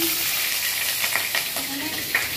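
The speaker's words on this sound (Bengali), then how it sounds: "মাংসের আলু ভাজা বসিয়েছি।" Potatoes for a meat curry frying in a pan, giving a steady close sizzle and hiss with a few soft stirring scrapes and no talk.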